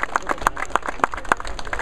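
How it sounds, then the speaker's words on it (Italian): Applause at an inauguration ceremony, a crowd clapping in quick, uneven bursts, fairly close and continuous for the whole short stretch. "Per intanto, per queste prime persone, un bel applauso."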